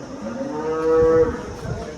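A Murrah water buffalo at a livestock market gives one low, drawn-out moo nearby, rumbling and nasal, over faint outdoor background noise.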